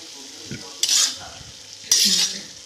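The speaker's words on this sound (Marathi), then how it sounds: "भाजी खरपूस होईपर्यंत भाजायची शिजवायची आपल्याला" Wild sarathi greens roasting in a pan over a low flame, where two distinct spatula scrapes stand out against a faint background sizzle, close up and with no voices.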